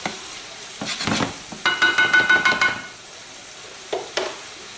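Garlic and shallot stirred in a pan over high heat, with bursts of sizzling frying and clattering stir strokes, loud and close, separated by brief pauses.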